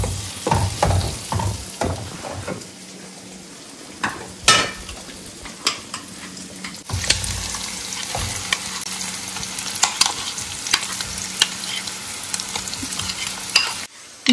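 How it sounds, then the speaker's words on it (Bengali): Onions and chicken paste frying in a pan with a spoon stirring them, giving a steady sizzle and repeated scraping knocks against the metal. Close and fairly loud, with no voices. "পেঁয়াজটা হালকা ভাজা হয়ে গেছে"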